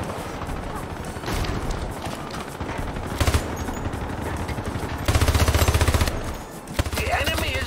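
Rifle fire from enemy robots in a Toy Story-themed tower defense video game: dense, continuous shooting with rapid bursts and booms, loudest toward the end, and speech mixed in.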